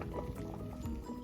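A pot of lasagna noodles at a rolling boil, with big bubbles popping and gurgling in a continuous, close, wet bubbling.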